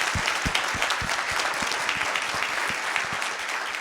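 An audience at a Nowruz musical celebration applauds steadily, a full, even wash of clapping with a few sharp louder claps standing out nearby.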